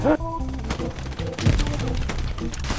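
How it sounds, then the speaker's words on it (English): MG42 machine-gun fire rattles in the Hell Let Loose war game, a burst of rapid, loud shots mixed with other battle noise while players talk over it. "I'm protecting us against uh, MG42 fire"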